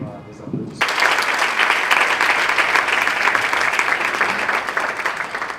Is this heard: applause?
yes